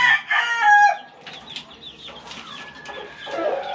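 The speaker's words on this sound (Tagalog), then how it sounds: "Sisiw sila. 7 sila na sisiw." Chicks and hens in a backyard coop: high, repeated cheeping and soft clucking, fairly close and moderately loud, in short irregular bursts over quiet farmyard background, with no talking.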